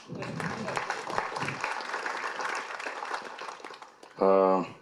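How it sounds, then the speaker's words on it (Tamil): An audience applauds at the trailer launch of the film Bottle Radha, a dense crowd clapping for about four seconds before a loud tonal burst cuts in at the end. "கைத்தட்டலாம்"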